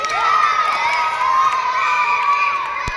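A room full of fourth-grade schoolchildren in a classroom cheers and shouts loudly and continuously for about three seconds, with a single sharp hit near the end.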